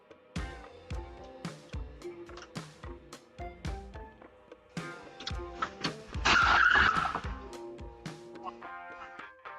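At night a car skids and crashes into another car. A string of sharp impacts and clatter comes first, then a loud burst of grinding and scraping noise, with scattered knocks as it settles.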